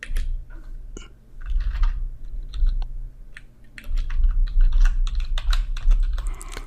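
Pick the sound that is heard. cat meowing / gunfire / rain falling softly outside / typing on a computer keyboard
typing on a computer keyboard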